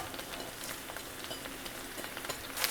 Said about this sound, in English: I'm gonna fry up the spinach and the basil